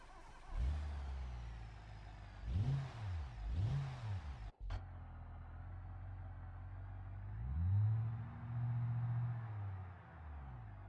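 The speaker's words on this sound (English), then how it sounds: "This definitely sounds a lot better than the old engine." A new truck engine in the game BeamNG.drive cranks up and revs in a few rising and falling bursts, settling into a steady idle before one more long rev.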